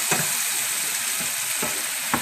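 Garlic sautéing in a pan for linguine with white clam sauce, a steady loud hiss of frying oil throughout with a few soft stirring scrapes of the spoon, close up.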